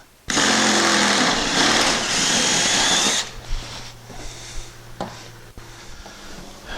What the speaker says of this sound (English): then I'm going to drill with a larger drill bit